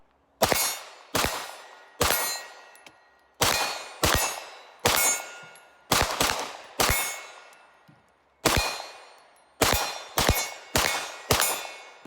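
Bullets strike steel shooting targets, each hit a sharp clang followed by a bright ringing decay, about a dozen impacts spaced irregularly at close to mid distance, with no talking.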